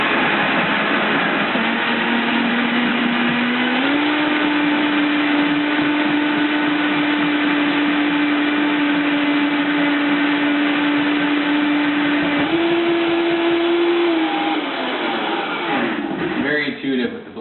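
A kitchen blender whirs steadily for about fourteen seconds, blending a jalapeno-cheddar coating for raw kale chips, its motor pitch stepping up partway through before winding down at the end.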